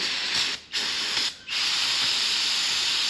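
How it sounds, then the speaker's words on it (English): Aerosol brake cleaner sprayed onto Cub Cadet mower parts in a loud, steady hiss that breaks off briefly twice in short gaps, then runs continuously to the end, close to the microphone. "Last step here, I'm going to take some brake clean."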